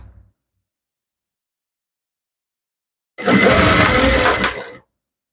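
A sewing machine runs in a single loud burst of about a second and a half, stitching a folded hem along a closed-neck blouse neckline, preceded by silence.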